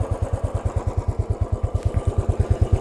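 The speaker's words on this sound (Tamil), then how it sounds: "ஸோ இதுதான் பார்த்தீங்கன்னா சைலன்சர் சவுண்ட்." A Royal Enfield Stealth Black 350 motorcycle idling through its silencer, giving a deep, even thump-thump exhaust beat at a steady rhythm, loud and close, with a faint mechanical clatter on top.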